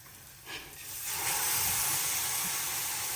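Spice mixture tipped into hot oil with cashews for paneer butter masala, a soft hiss that swells into a steady, loud sizzle and holds to the end, with no talking.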